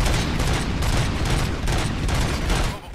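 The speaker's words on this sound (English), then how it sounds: "Gunshots? What's going on?" Rapid, dense gunfire and booming shots from the video game RoboCop: Rogue City fill the scene, a steady loud barrage that only drops off near the end.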